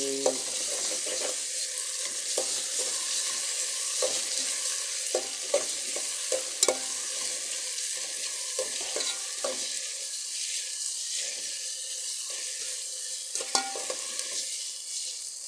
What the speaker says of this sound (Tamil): அப்படியே நல்லா கிண்டி விட்டுக்கிற வேண்டும்